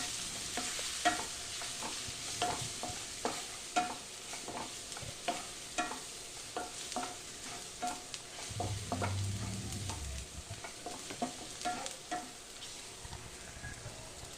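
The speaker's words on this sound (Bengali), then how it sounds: "কাশ্মীরি লঙ্কার গুঁড়ো, লাল লঙ্কার গুঁড়ো, হলুদ দিয়ে আবার একটু ভালো করে নেড়ে চেড়ে নেব।" Chicken stirred in a pan with Kashmiri chili powder, red chili powder and turmeric: a soft continuous fry under repeated quick scraping strokes of the spatula, with a brief low rumble midway.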